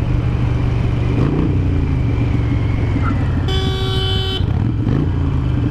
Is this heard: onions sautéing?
no